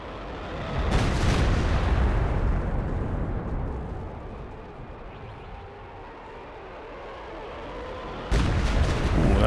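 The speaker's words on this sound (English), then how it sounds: "Fire mission, HE quick, barrage, fire for effect." An HE artillery barrage lands in a World War II strategy game, with deep rumbling booms that roll on and fade for several seconds before a fresh loud blast hits near the end.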